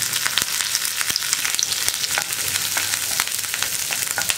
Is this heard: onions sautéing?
yes